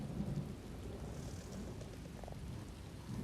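Thunderstorm in the video game Elder Scrolls Online, with low rolling rumbles of thunder over a steady wash of rain, fairly quiet and continuous throughout.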